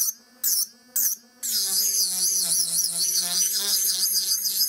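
A small electric nail drill whines steadily at high pitch, starting and stopping a few times before running continuously, close and loud.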